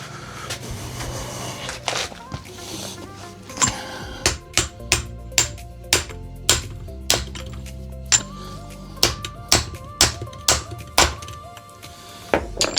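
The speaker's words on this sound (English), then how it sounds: "if not, get a big socket and a hammer." Steady metallic knocks from a hammer striking a big socket to drive a gear onto a shaft during a gearing change, about twenty sharp blows in an even rhythm, close and clear with no talking.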